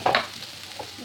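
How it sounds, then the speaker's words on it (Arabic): Onion and a pinch of salt stirred in a pan with a utensil, two quick scraping strokes at the start over a faint sizzle, close and brief. "غنخلطها بحال هكا حتى تهبط البصله"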